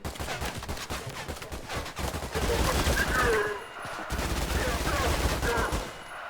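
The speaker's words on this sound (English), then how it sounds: "Mike being an absolute savage with the SMG there" A submachine gun fires in the shooter game ADACA Zone Patrol, rattling out long, sustained automatic bursts at close range with a brief pause in the middle, loud and dense throughout.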